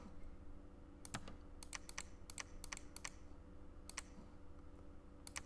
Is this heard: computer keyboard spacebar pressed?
yes